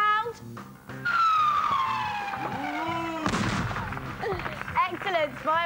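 Firework-night sound effect on a 1996 children's TV broadcast: descending whistling rockets followed by a crackling, booming burst and further popping and whistling shells, loud and close.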